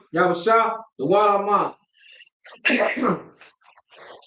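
A single sharp sneeze bursts out in a quiet room during a chanted religious service, with a voice chanting and speaking around it.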